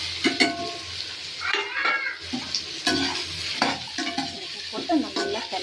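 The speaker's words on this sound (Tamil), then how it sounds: "போட்டு நல்லா கிளறணும் பாருங்க ஃப்ரெண்ட்ஸ்" Pumpkin pieces are stirred in a cooking pan with tomatoes, a spoon scraping and clinking against the pan in irregular strokes over a soft background sizzle, close and moderately loud.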